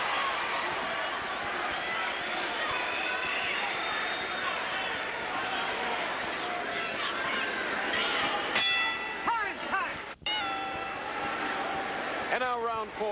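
A boxing bell rings out at the end of round three of a professional bout, sharp metallic strikes with ringing tails cutting through a loud arena crowd roar and a commentator's voice.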